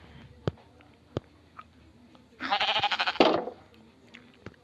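Sheep in the Minecraft video game let out one wavering bleat of about a second, loud and close, with a few sharp clicks before and after it.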